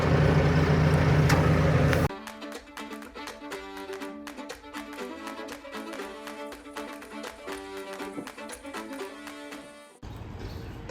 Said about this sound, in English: I have a loader, front loader full of tyres, which I will now deposit to the tyre pile